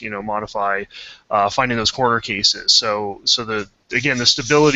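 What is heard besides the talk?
No everyday noises stand out.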